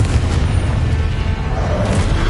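Confringo fire curse blast in Hogwarts Legacy, a dense rumbling boom that rolls on steadily for a couple of seconds with no clear separate hits.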